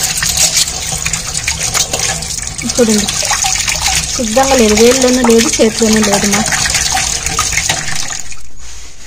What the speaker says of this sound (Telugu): ఇప్పుడు నేను సోప్ వేసి మీకు కడిగి చూపిస్తా